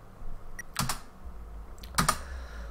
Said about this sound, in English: Let me get my keyboard set up there.